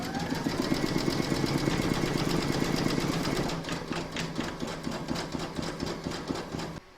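An embroidery sewing machine stitching a table runner hums with steady rapid needle pulses, loud and close, easing slightly halfway through and continuing at a lighter level with no talk.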